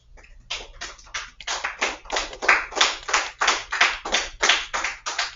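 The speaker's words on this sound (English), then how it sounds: "Give yourself a round of applause." A classroom of students claps in a lively round of applause, about a dozen sharp, rhythmic bursts of hand claps close by, with no talking.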